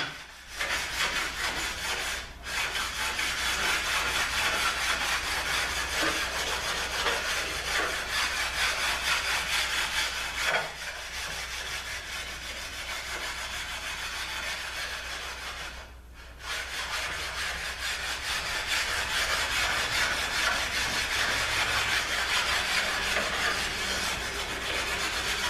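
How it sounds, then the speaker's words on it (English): Steady rasping scrub of flat sanding on a ZF5HP19 transmission valve body at a workbench, continuous close friction noise with two brief pauses partway through. "Just want to flat sand this because I made all those marks."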